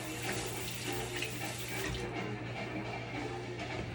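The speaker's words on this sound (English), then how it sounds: "Let me wash my hand." Water runs steadily from a kitchen tap while hands are washed beneath it, a continuous close splashing hiss that stays loud for the whole stretch, with no talking.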